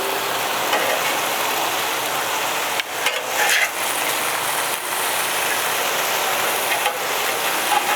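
Onion smashburgers sizzle loudly on a Weber Crafted griddle, a dense steady hiss close by, broken by a few brief scrapes and clanks as the spatula flips the patties.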